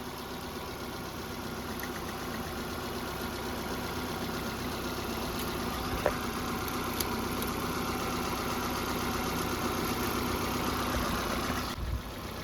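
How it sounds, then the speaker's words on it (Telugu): Steady idle of a 2013 Hyundai i10 Magna car engine, a continuous even drone with a faint tick near six seconds and a small knock near the end, with no talk over it. "సో ఓవరాల్గా అయితే ఇంజన్ సౌండ్ అయితే ఈ విధంగా ఉన్నది."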